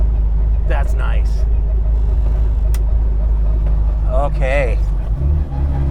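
Loud, constant low engine drone of a supercharged 1310cc Mini Cooper with a straight-cut gearbox while driving, the rumble shifting near the end as gears change, with someone talking briefly over it.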